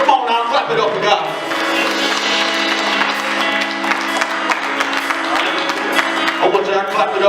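A church audience claps along during a gospel performance, steady applause blended into loud, dense music with a voice calling over it throughout.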